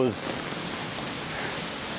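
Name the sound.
rain falling during a walk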